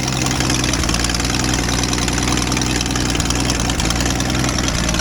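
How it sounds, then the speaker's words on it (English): A 1966 Ford Mustang engine idles with a leaking exhaust manifold, a loud, even, rumbling drone with a fine rapid pulse that runs steadily without any talk. "Obviously that manifold's still leaking"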